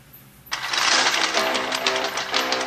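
Drill weapon in the combat vehicle game C.A.T.S. Crash Arena Turbo Stars, starting abruptly as a loud, harsh, rapidly pulsing grinding whir that continues steadily with a rattling clatter.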